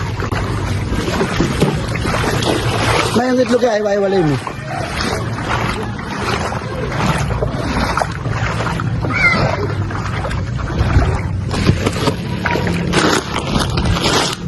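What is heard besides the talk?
boat on floodwater carrying relief goods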